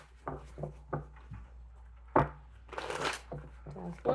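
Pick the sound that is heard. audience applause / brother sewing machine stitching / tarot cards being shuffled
tarot cards being shuffled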